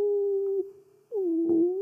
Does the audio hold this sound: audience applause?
no